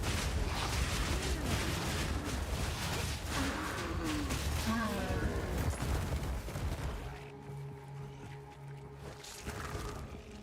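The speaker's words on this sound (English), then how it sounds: "I feel like those those explosions are a little bit OP." Rapid explosions in the action game Path of Exile 2 as a witch fights, a dense barrage of booms and blasts with game effects, and a voice talks partway through.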